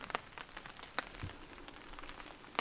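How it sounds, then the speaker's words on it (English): Rain pattering on a camp tarp during a solo kayak trip, sparse distinct taps and drips over a faint soft hiss, quiet and close, irregular in rhythm with no voices. "The lovely sound of rain hitting the tarp."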